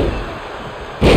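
Diving senton bomb in WWE 2K22, a wrestler crashing down onto an opponent: a quiet arena bed, then a single loud heavy slam of impact near the end.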